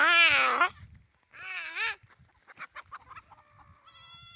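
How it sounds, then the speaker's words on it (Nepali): Nearby chickens make loud squawking calls, then a run of short clucks follows, with a rising high call at the end. "धानबारी कुखुराहरू"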